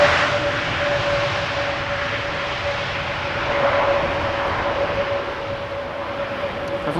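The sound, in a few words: Air Transat Airbus A321neo arriving from Toronto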